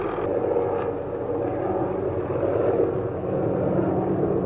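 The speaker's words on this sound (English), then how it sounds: "today is the day that the helicopter is pruning the power lines" A steady, droning helicopter engine rumble with faint rotor chop hums at a distance as it prunes power lines, continuous and unbroken, with no voices.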